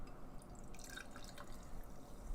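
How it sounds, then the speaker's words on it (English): Blue Hawaiian beer from Wild Barrel Brewing Company trickling into a Black Horizon Brewing Company glass, a quiet liquid pour with light dripping and splashing over faint background hiss. "I'll be drinking out of my Black Horizon Brewing Company glass, and let's see how this pours"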